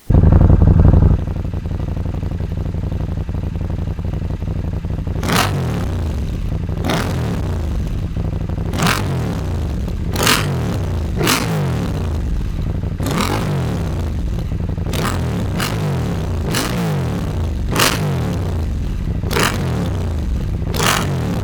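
KTM 790 Adventure R motorcycle fitted with an Aero Decat exhaust, first idling loudly and close, then blipped through about a dozen sharp throttle revs in uneven succession, each rising and falling quickly with no voices.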